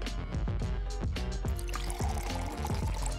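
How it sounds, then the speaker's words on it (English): Boiling water pours steadily onto peeled ginger, a continuous liquid splash with small repeated drips and clinks, close and moderately quiet. "Add boiling water to peel ginger"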